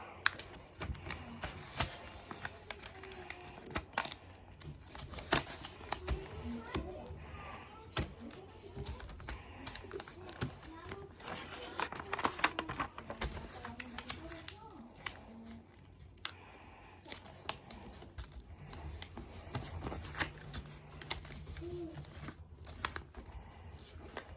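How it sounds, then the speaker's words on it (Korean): Paper being folded into an origami fortune teller, with soft, close crinkles, rustles and creasing taps coming in quiet, irregular bursts throughout. "다 모은 다음에 뒤집어서 또 똑같이 접어줍니다."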